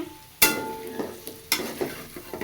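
Vegetable bhaji fritters being stirred and turned in hot oil in a pan, with sharp scraping clatters of the spatula over a steady low sizzle, several strokes at an uneven pace, close by.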